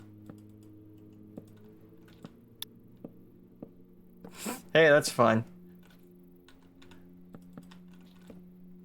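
A quick burst of computer keyboard typing clatters close by, a short flurry of clicks amid faint ticking and a low hum, with someone speaking briefly just before.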